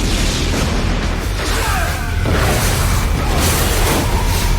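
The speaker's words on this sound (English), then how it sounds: "And the cars that they exploded." Car explosions from the 2002 action film Ballistic: Ecks vs. Sever: loud, continuous booming blasts and rushing whooshes with crashing debris, filling the whole stretch with no pause.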